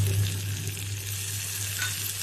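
Chopped tomatoes and onions sauté in a hot pan, a steady close sizzle and crackle under a low, even hum, with no voices.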